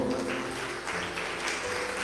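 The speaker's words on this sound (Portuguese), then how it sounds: "aplaude o Senhor" A church congregation applauds the Lord during a worship service. The clapping is steady and faint, sounds fairly distant in the room and continues without a break.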